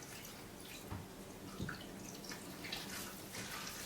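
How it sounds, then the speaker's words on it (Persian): Water trickles and splashes softly into khinkali dough in a quiet kitchen, a faint, uneven pouring with a few small drips and no voices heard. "Не забываем добавлять воду."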